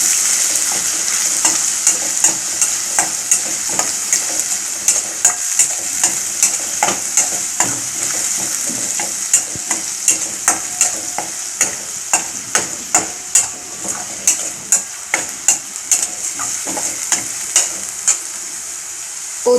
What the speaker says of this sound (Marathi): त्या आल्याचा वास आणि मिरचीचं हे होऊन जाईल, त्याच्यासाठी थोडं परतवून घ्यायचं आहे